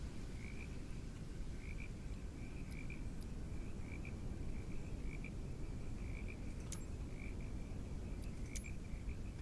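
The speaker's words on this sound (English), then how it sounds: "I can hear frogs here." Frogs croak at night at Singapore airport in Microsoft Flight Simulator 2024, a steady, regularly pulsing chorus heard faintly over constant low ambient noise, with a few sharp clicks.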